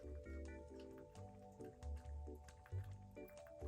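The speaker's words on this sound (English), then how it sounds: "dog drinking water behind me." Dog lapping water from a bowl indoors, a quick run of wet, rhythmic slurps and drips, close and quiet, with no talking.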